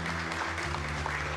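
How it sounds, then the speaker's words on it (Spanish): Audience applause at a school graduation ceremony where diplomas are signed, a dense, steady wash of clapping filling the whole short moment at moderate loudness. "Démosle un aplauso."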